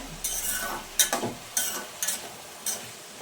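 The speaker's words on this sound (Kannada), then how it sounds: "ಬದನೆಕಾಯಿ ಚೆನ್ನಾಗಿ ಫ್ರೈ ಆಗಬೇಕು ಎಣ್ಣೆಯಲ್ಲಿ." Eggplant pieces frying in oil for vangi bath, stirred with a utensil in about four separate scraping bursts, each carrying a bright sizzle and clatter, with quiet pauses in between.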